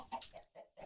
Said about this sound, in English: I have been breeding chickens.